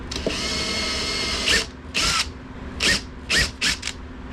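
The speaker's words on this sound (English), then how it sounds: "Try to get the drill somewhat centered on my holes." A power drill bores holes in a wooden hinge board during a boat cabin build, a steady whirring run followed by several short bursts of the motor revving and stopping, close by.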